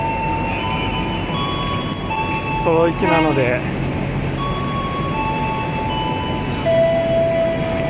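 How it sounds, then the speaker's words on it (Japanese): Low rumbling of a train departing a station in Yogyakarta, Indonesia, with metallic squeals and hissing, while a person speaks over the noise. "列車が出発しようとしてます。"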